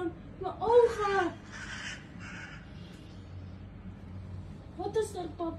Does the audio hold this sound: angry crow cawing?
yes